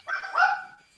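A single short, bright dog bark or yip, close and fairly loud, lasting under a second with a slight tonal whine as it fades.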